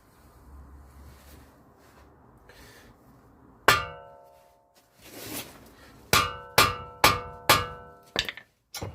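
A hammer taps metal to loosen the front lower control arm ball joint on a VW Sharan / SEAT Alhambra: one sharp ringing clang, then a quick series of about five close, loud metallic strikes.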